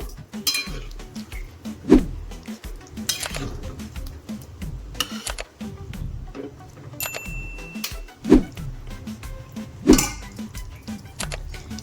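Cabbage kofta curry being stirred in a pan with coriander leaves, giving a few sharp spoon-on-pan clinks and scrapes at intervals over a quiet kitchen background, with no talking.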